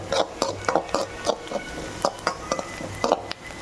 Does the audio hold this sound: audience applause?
no